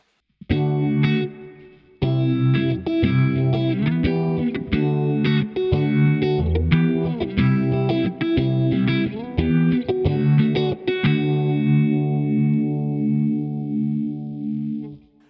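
A distorted electric guitar through a Valeton GP200 phaser effect with left-to-right stereo panning plays chords and single notes, ringing out and fading at the end.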